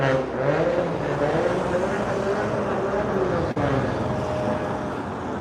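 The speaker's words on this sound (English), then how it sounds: "Someone's got a noisy car." Noisy car roaring past outdoors near Blackpool Pleasure Beach, a loud, steady engine drone that fills the scene for several seconds, with a voice talking faintly underneath.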